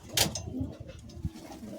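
Madrasi pigeons, white full-face high-flying birds kept in a coop, coo softly in a few low bursts close by, with a sharper rustle near the start and no talking.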